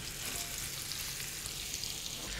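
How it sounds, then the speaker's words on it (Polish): Sausage and onion frying in a pan, a steady dense sizzle and crackle that stays close and even throughout with no voices. "Kiełbaska i cebulka już się smażą."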